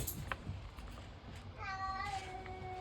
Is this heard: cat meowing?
yes